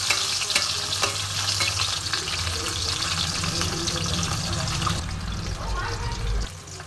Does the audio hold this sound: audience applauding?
no